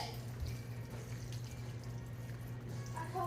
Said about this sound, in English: the last thing I'm going to do is just fill it all the way up with water